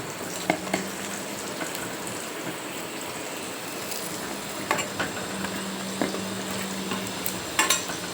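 Korameenu fish fry village style in a pan, a steady dense sizzle of hot oil with occasional louder pops and clacks as pieces are turned, close and continuous with no talking.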